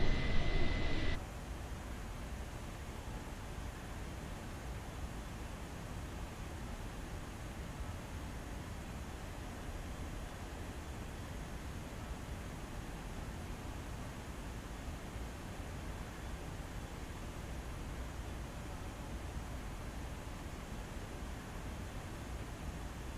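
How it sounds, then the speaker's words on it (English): Dense, even rush of wind noise, steady and hiss-like throughout with no gusting breaks, after a brief louder burst at the very start. "But I'm hearing the wind."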